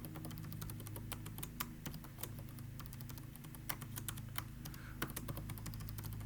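Quiet, rapid clicking of a computer keyboard as a name and password are entered, irregular keystrokes with a few heavier taps, close and faint over a low steady hum.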